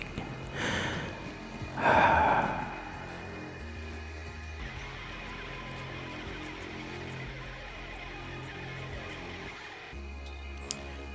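Two loud, close breaths come through a microphone near the mouth, then give way to a quiet, steady hiss with faint low thumps.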